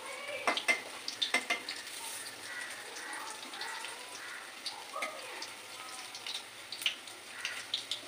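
Banana flower fritters frying in a pan of oil, a steady soft sizzle with scattered clinks and scrapes of a utensil against the pan, close by and fairly quiet, no talking.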